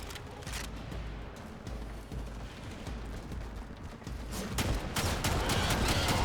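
The Kohmak shotgun in the game Warframe firing in rapid continuous bursts, a dense rattling barrage that grows louder and faster toward the end.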